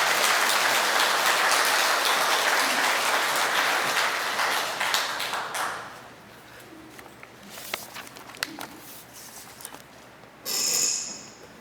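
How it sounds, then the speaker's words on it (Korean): Congregation applauding inside a Catholic church during Sunday Mass, a dense, loud wash of clapping that fades after about six seconds into scattered claps, shuffling and room noise. "박수로 맞아 주십시오."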